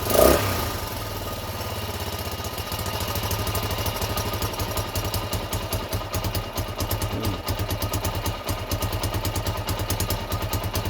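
Honda XL125S motorcycle engine running after restoration work, a close, steady single-cylinder idle with a rapid rhythmic putter and light mechanical clatter, a brief blip at the start, no talk.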